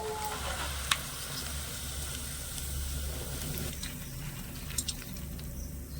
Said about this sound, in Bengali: এবার বাদামগুলো আমি খুব সুন্দর করে ভেজে নেবো